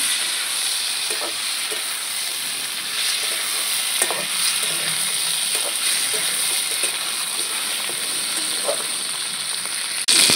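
Chopped tomatoes and green chilies hit hot oil in a pan while a light Bengali pabda fish curry with potato and pointed gourd cooks, giving a steady, close, bright sizzle with faint stirring clicks and no talk.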